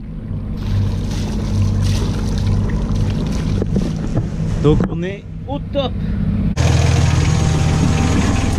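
A Yanmar 3YM30 marine engine runs on a moored boat, its exhaust spitting water in a steady low rumble with wind buffeting, a brief lull of gurgling bursts, then louder running again; someone speaks briefly over it.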